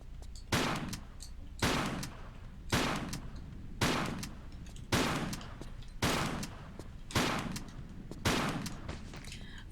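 Shotgun loaded with wide shot ammo firing in a Tomb Raider game, about eight loud, evenly spaced blasts roughly a second apart, each with a sharp crack and a short decaying tail, with no talk.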